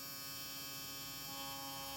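A Kemei KM T402 electric shaver runs its motor at 9,000 RPM, giving a steady, faint, even hum with no variation and no voices.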